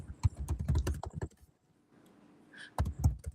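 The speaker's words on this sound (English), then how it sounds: "We're typing here." Rapid keystrokes clatter on a computer keyboard in two close bursts separated by a brief pause, crisp and near, with no talking.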